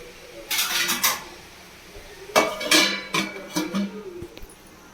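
Metal clinks and clatters as a lid is set onto a pot of paavakkai kuzhambu, bitter gourd curry, in a home kitchen, a few sharp knocks in two clusters, close by, with no talk.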